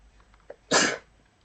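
A single short, sharp cough or sneeze from a lecturer with a sore throat bursts out close to the microphone after a brief quiet pause, then fades back to near silence.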